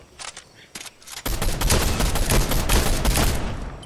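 Rapid bursts of automatic gunfire in a video game shooter, a few short shots then a sustained loud barrage, with players talking briefly before it.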